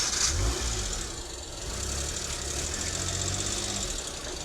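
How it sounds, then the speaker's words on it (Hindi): A car engine idles and pulls away slowly in a low, steady rumble with a slight knock, moderately close and fairly quiet, with no voices heard. "और अब कार्तिक जी गाड़ी निकालेंगे।"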